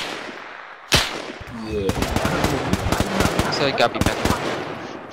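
Gunfire in the military video game Arma 3, a sharp loud shot and then sustained rapid automatic bursts with several more cracks, close and dense, while a voice speaks briefly underneath.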